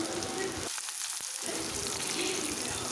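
Black cumin seeds and green chillies sizzle in hot oil as a tempering for a white potato curry, a steady close crackle that drops out briefly and then resumes.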